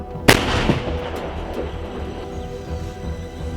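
A single sharp, loud artillery blast cracks out at the start, then fades into a lingering rumbling echo over a quiet outdoor background, at the front near Novomykhailivka, Ukraine.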